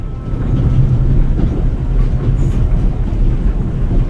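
A freight car rolls along the rails in the video game The Raven, a steady low rumble with faint rhythmic clatter, heard alone without talk.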